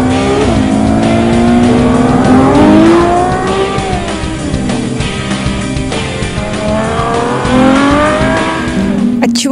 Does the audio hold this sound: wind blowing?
no